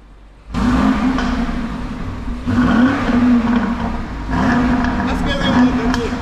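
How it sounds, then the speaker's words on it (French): A 4-litre V8 car engine in sport mode is blipped three times in quick succession, each rev surging loud and close from the rear exhaust before settling back to idle. "Je vais donner quelques coups de gaz."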